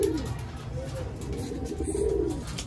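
Young breeder pigeons coo in soft, repeated rolling calls from a crowded loft before release, with low background rumble and faint voices underneath.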